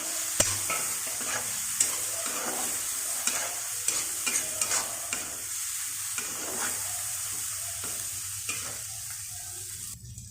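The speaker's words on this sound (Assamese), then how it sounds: "এতিয়া এইখিনি মোৰ মছলা ভজা হৈ গ'ল, কাৰণ তেল ওপৰত আহি গ'ল।" Spice masala frying in oil in a pan and being stirred with a spoon, a close steady sizzle broken by regular scraping strokes, with no talking.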